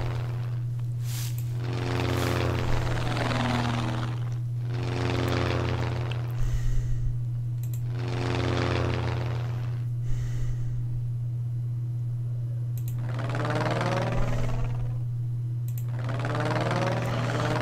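Propeller aircraft in the World War II flight game Ace Patrol: Pacific Skies drone under a steady engine hum, while repeated swelling passes come and go in a regular rhythm.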